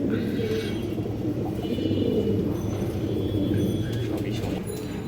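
Pigeons at a breeder's loft coo in low, soft, repeated murmurs under a constant background hum while a female pigeon is held up, with faint rustling and no clear talk.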